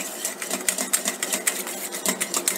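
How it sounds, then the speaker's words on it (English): Rapid rhythmic whisking of egg yolks with a reduction in a bowl for hollandaise sauce, steady close clinking strokes of the whisk against the bowl, loud and alone. "Whisk the egg yolks at the reduction till it's slightly frothy"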